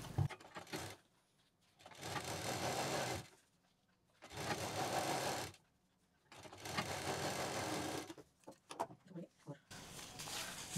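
Sewing machine stitching velvet bag pieces onto a zip runs in three sustained bursts of whirring motor and needle clatter, separated by short quiet pauses, close and moderately loud.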